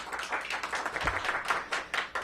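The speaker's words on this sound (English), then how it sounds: "I want to acknowledge Dr. LaQuandra Nesbitt and give her a big round of applause." Applause at a press event for a COVID-19 vaccination launch in Washington, DC, heard as a scattered, fairly distant patter of hand claps from a small crowd, with a single low thump partway through.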